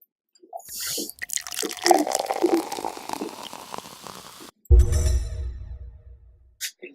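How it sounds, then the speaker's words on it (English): A spoon stirs salt into water in a wide-mouth jar, giving irregular sloshing, clinks and liquid swirls. It stops, then a short burst of splashing and fizzing follows, close and fairly loud. "Now you stir until no more salt will dissolve."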